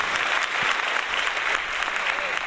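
A canned applause sound effect played on a podcast, steady dense clapping and crowd noise running evenly at moderate level throughout.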